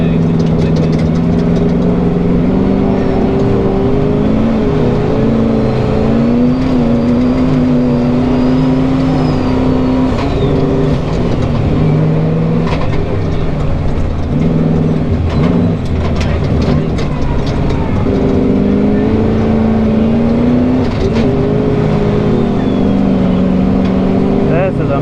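A 1700-horsepower sandrail runs across the sand dunes at Glamis, its engine a loud, steady drone that rises and falls in pitch throughout, with wind noise and no clear talk over it.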